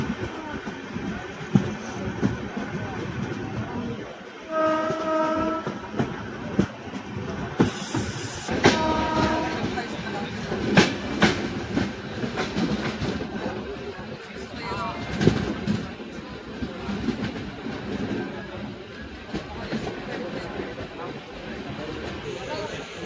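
Deccan Queen passenger train on the Mumbai–Pune line nearing Shivajinagar, giving a steady rolling rumble with rhythmic wheel clicks and a brief hiss, close and continuous beneath people talking.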